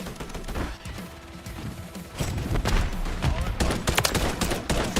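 A grenade blast in a shooter video game, a loud burst at about two seconds followed by sustained crashing gunfire and booms, with voices faintly under the battle noise.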